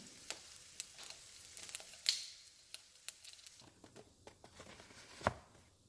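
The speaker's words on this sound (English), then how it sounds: "I'm also going to lightly saute 1 fresh jalapeno." One fresh jalapeno sautés lightly in a pan, giving a faint, sparse sizzle broken by scattered crackles and a few louder clicks of a utensil.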